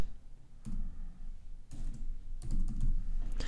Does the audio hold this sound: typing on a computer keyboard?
yes